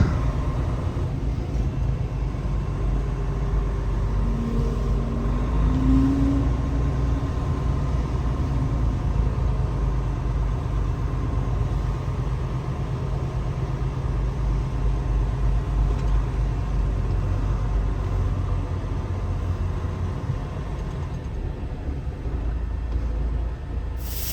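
A truck engine runs steadily with a low, continuous rumble as it drives along, holding an even level throughout with no talking.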